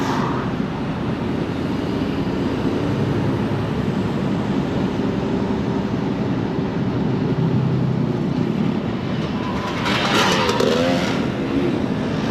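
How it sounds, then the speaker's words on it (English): A motorbike passes on the road outside a haulage truck, its engine note swelling briefly near the end above the truck's steady low cab drone; no one talks. "Nice to see responsible motorbike riders."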